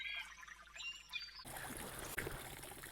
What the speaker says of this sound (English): we really like the sound of water.